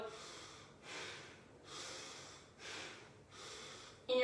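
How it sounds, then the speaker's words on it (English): Rapid rhythmic breath-of-fire style breathing in a Kundalini yoga session, forceful nasal exhales and inhales pulsing in about five even waves, close and steady with no talking. "So I'll get you guys to breathe for a minute in this position."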